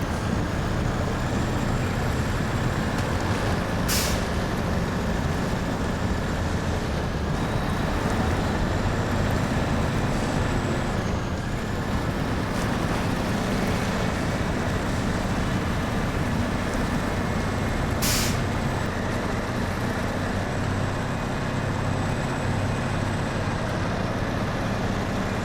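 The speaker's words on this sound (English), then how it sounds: "This truck has no difficulty just plowing through the water and mud" A P16 truck in the SnowRunner video game plows through water and mud, its steady engine drone and sloshing rumble continuing loud and unbroken throughout, with two brief bright splashes standing out.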